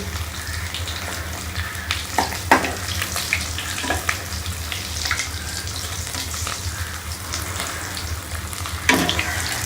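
Rice and potato cutlets fry in a pan, browning on both sides, with a steady, close sizzle and occasional scraping stirs; no voices.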